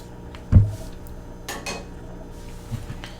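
Kitchen utensils and spatulas clatter against dishes while banana bread is made: one sharp knock, then a few lighter clinks and taps spaced through a quiet stretch, close and clear.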